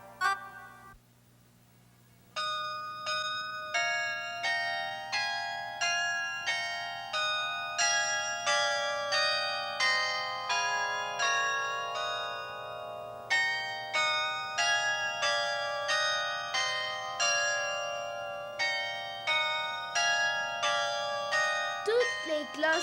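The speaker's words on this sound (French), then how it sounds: "Toutes les cloches du clocher, je les entends carillonner." Bell-like chimes ring out a quick repeating melody, like a carillon pealing from a church bell tower, with bright clear notes steady and close after a short quiet opening.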